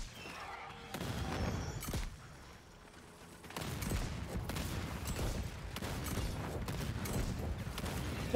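Gunshots in the shooter Second Extinction: a short burst of fire, a quieter lull, then a longer stretch of rapid, rattling shots mixed with mechanical clatter, moderately loud.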